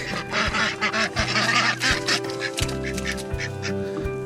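Ducks quack repeatedly at close range while being fed tomato scraps outdoors, a busy overlapping chorus of honking calls with low steady hum underneath and no talking.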